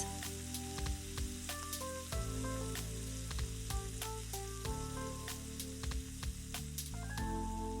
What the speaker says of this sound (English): add oil to the Medley XL. Add the sausage and sear until golden brown on both sides.